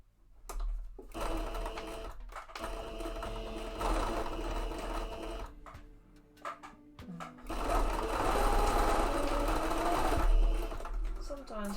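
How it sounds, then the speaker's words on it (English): A sewing machine runs in bursts while stitching a mock-up of shorts, whirring loudly and close with brief pauses between runs. "Sometimes my sewing machine is a bit annoying and it does not want to sew when it goes backwards."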